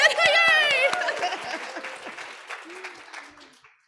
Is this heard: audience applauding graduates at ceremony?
yes